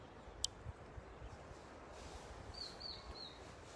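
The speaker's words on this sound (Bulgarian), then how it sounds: "Много се надявам да чуваш птичките." Birds singing outdoors in a calm, peaceful garden spot, a few faint high chirps and a short trilling call over quiet ambient background, with one sharp brief peep early on.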